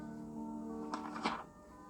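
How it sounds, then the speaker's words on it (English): A single page of a picture book turning, used as a book-on-tape cue: a brief soft papery swish and flutter rising over a faint steady background hum, close and alone. "This is the sound of a page turning."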